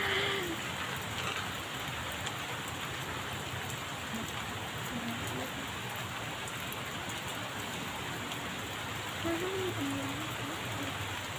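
Steady rain pours down outdoors in a continuous, even hiss of drops, with no talk over it.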